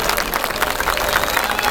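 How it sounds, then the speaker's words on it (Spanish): Crowd applause at an outdoor sonidero march rally in the Zócalo plaza, a dense, steady wash of clapping with some cheering and crowd babble throughout. "merecen ustedes un fuerte aplauso."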